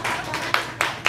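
A few sharp handclaps at a stand-up comedy show, three or four distinct claps spaced unevenly across about a second over a steady room background.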